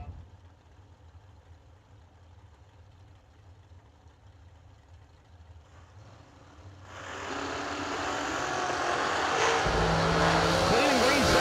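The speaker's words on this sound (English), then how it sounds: "Both Florida-based dragsters, M&M chassis, left-hand side, big block with a blower on top" Blown big-block dragsters at a drag strip, starting as a distant rumble under an announcer's commentary, then swelling into a loud, roaring launch and pass that dominates the end.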